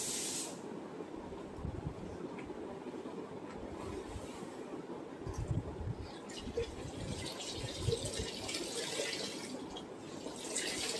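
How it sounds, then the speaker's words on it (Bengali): Dal simmers in a pot on the stove, giving off a soft, continuous hiss and bubbling that rises and falls slightly, heard from up close and faint. "ওদিকে ডাল সেদ্ধ হচ্ছে"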